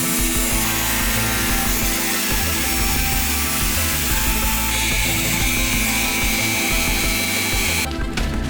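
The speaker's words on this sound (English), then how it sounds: "let's start cutting out some rust." Power tool cutting out rusty metal on a Toyota Troopy, a loud steady grinding and rasping that runs without pause and stops abruptly near the end.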